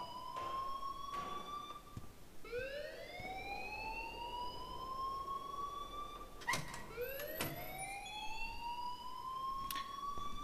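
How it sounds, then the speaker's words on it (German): A rising and falling electronic alarm wails repeatedly in Life is Strange, a loud sweeping tone that restarts several times over a steady background hum, with no voices. "please turn off that alarm since that's your job"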